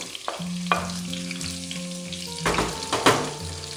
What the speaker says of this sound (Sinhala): මෙන්න මේ විදිහට පොඩ්ඩක් බැද ගන්න ඕනේ